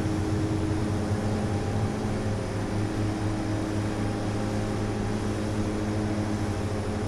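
DHC-6-300 Twin Otter turboprop engines at high takeoff power in FSX, a loud, constant droning hum with steady tonal whine and no pauses.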